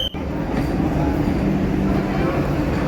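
A heavy, steady rumble of a Vande Bharat Express train running close by, loud and continuous throughout with no pauses.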